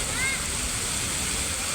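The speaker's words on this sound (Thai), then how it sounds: "ส่วนด้านหลังจะเป็นม่านน้ำตก" Water curtain waterfall in a lit riverside park along the Mekong in Laos, giving a steady, loud broadband rush of falling water throughout, with no clear break.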